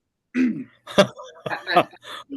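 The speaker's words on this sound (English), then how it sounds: "even when you clear your throat, you sound like Elvis" Several throaty clearing noises in quick succession, close and moderately loud, with short pauses between the rough, voiced bursts.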